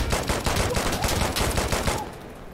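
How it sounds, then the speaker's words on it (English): Rapid bursts of automatic gunfire in the video game Insurgency Sandstorm, loud and continuous with dense repeated shots for about two seconds before easing into quieter background. "Where the fuck is that shot coming from?"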